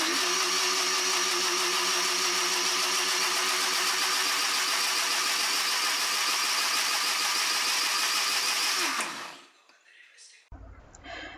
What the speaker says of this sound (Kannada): ನಾನೀಗ ಮಿಕ್ಸಿ ಎಷ್ಟೊತ್ತು ಓಡಿಸ್ತೀನಿ ಅಂತ ರಿಯಲ್ ಟೈಮ್ ಕೂಡ ನಿಮ್ ಜೊತೆ ಶೇರ್ ಮಾಡ್ತೀನಿ